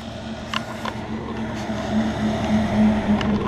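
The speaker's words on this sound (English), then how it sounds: "so, yeah, there's a bus right there." A bus passes close by on a street, its engine giving a steady low rumble and hum that swells slightly toward the end, with no talking.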